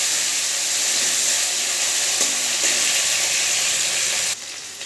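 Chopped vegetables hit hot oil with tempered spices, giving a loud, steady sizzle and hiss with a few stirring scrapes before the frying eases slightly near the end.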